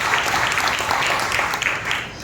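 A church congregation at a Christmas service claps together in a thick, continuous burst of applause that fades slightly at the close, with faint voices underneath.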